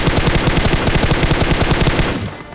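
Rapid automatic gunfire from a battle royale video game rattles in a loud, even burst of closely spaced shots lasting about two seconds, then cuts off abruptly.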